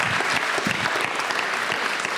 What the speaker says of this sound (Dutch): En ik denk dat jullie hier een hartverwarmend applaus krijgen.